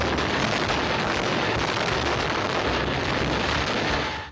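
Dynamite implosion of the old Detran building in 1978: a sustained, loud broadband roar and rumble filling the whole moment, steady and dense before tailing off at the end, with no voices.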